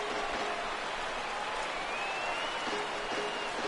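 Roaring crowd of about 34,000 baseball fans rising to their feet and cheering at the stadium, a steady dense wash of noise throughout.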